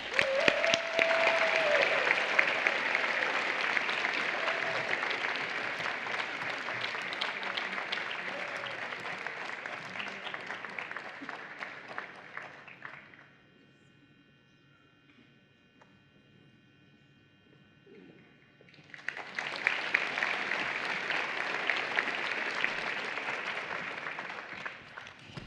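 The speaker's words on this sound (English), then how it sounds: "Please join me in applauding Amy Lewis." Audience at a university graduation recognition ceremony applauding in a large hall, a long sustained wash of clapping that fades to near silence, then a second burst of applause rises again.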